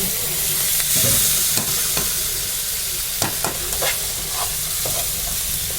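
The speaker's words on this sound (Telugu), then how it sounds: "బాగా వేగుతాయి ఉల్లిపాయలు, నానుడుగా వేగితే బాగుండవు" Onions frying in hot oil with curry leaves, a loud continuous sizzle with scattered crackles and stirring scrapes, close and alone without talk.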